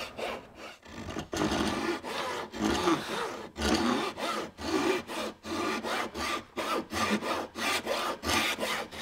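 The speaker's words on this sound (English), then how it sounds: "I'm just going to cut one more half lap" Hand saw cutting a half lap joint in wood, a steady back-and-forth rasping of repeated strokes, close and loud with no talk.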